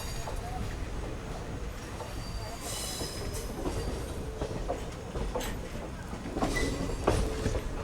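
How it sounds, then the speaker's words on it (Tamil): Trivandrum–Tiruchy Intercity superfast express running on newly doubled track near Nagercoil Junction's outer cabin, steady rolling rumble with rhythmic wheel clicks and occasional squeals, growing slightly louder toward the end, with a voice speaking faintly in places. "நாகர்கோவில் ஜங்ஷனுடைய அவுட்டர் கேபினில் நம்ம ட்ரெயின் போய்கிட்டு இருக்குங்க"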